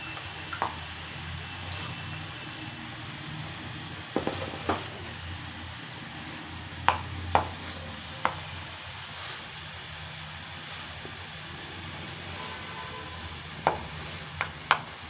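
A ladle pokes and separates clumped masala peanuts frying in hot oil over a low flame, with sharp intermittent taps and scrapes against the pan above a continuous bubbling sizzle.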